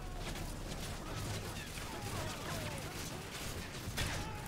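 Bursts of automatic gunfire from a Modern Warfare 3 firefight, dense and continuous over battlefield noise, with a voice talking at points.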